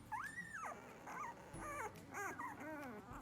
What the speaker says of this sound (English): Little growls and little barks and yelps